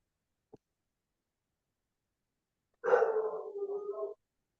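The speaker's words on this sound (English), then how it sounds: "Whose dog is that?" A dog gives a single close, fairly loud bark-like whine lasting just over a second, after a brief click and a long stretch of near silence indoors.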